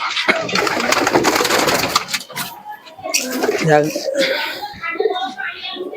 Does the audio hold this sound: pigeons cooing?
yes